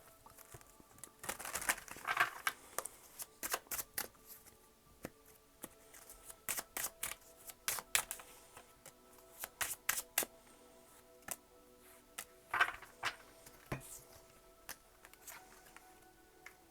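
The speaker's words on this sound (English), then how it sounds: "shuffling on camera is kind of annoying" A deck of tarot cards is shuffled by hand close up, with long-nailed fingers riffling and tapping the cards in irregular bursts of crisp slaps and rustles, pausing briefly between rounds; no talking.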